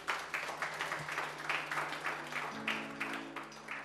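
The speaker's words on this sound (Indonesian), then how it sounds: "Tepuk tangannya dahsyat." A church congregation claps together in a steady rhythmic beat, with dense overlapping hand claps and soft music sustained underneath.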